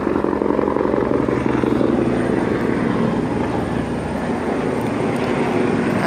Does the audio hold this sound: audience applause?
no